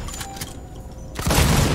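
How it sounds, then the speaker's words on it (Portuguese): A shotgun blast in Alien Isolation, a sudden loud burst near the end after quieter game ambience and faint clicks. "O cara tacou um tiro de 12 na cara."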